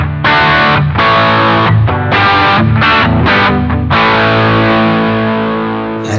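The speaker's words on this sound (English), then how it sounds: "So here's an overdriven patch and the resonance is currently set to 0" Loud, close overdriven electric guitar from a Boss GT-1000 patch with the resonance control at zero: several choppy distorted chords, then one long sustained chord that slowly fades, with no talking.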